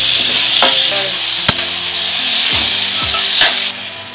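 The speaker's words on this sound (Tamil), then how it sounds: "நல்லா பழமாக 5 தக்காளி எடுத்து வச்சுருக்கேன், நல்லா வதக்கிக்கலாம்." Ripe tomatoes and curry leaves sauté in a pan for crab rasam, with a steady sizzle under scraping spoon strokes and a few sharp clicks against the pan.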